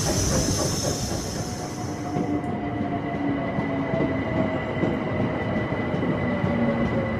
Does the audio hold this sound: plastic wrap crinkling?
no